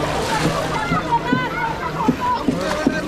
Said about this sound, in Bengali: এবার ডুব হবে আমাদের গ্রামবাসীর জন্য।